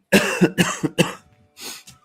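A burst of several harsh, close coughs in quick succession, a short pause, then two more softer coughs.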